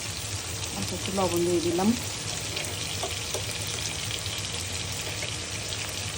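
Shrimp with chopped garlic, onion and green chili frying in hot oil over raised heat, a steady loud sizzle running throughout with stirring clatter, while a voice speaks briefly over it.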